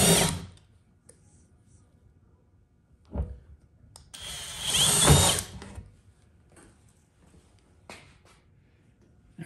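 A power drill whirs in short bursts as it bores pilot holes for a 9/32 bit, with one longer whine in the middle and quiet gaps between.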